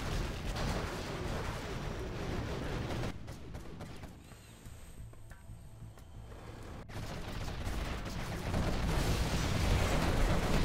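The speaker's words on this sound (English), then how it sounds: "There's the carpet bomb, but actually wasn't that good" A carpet bomb strike in a strategy video game rumbles as a dense, continuous barrage of explosions, dips into a quieter stretch midway, then swells back to a heavy roar.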